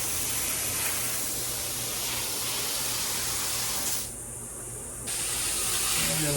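Spray hisses steadily onto the fins of an air conditioner condenser unit during cleaning, close and continuous, briefly dropping in intensity for about a second before resuming at full strength.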